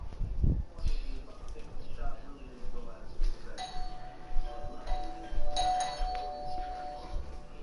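Doorbell chimes ring out several times over a noisy room while voices talk through it and a game plays in the background, the ding-dong tones clear but partly mixed with the chatter.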